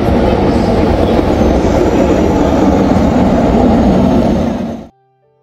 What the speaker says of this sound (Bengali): ওই যে ট্রেন এসে গেছে, চলুন টুকটুক করে উঠে পড়ি।